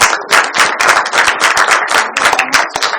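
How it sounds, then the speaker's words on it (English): A roundtable audience applauds the panel speakers with sharp, loud, close claps in a brisk, uneven rhythm, a small group clapping steadily for the full stretch. "So a big round of applause for all the speakers."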